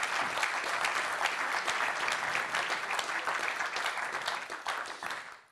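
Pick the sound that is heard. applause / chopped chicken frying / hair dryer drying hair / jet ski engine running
applause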